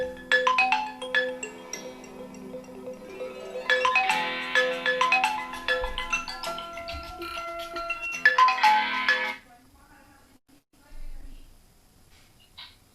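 A telephone ringtone plays as an incoming call, a bright repeating melody in two loud phrases, then it stops and a voice speaks faintly afterward.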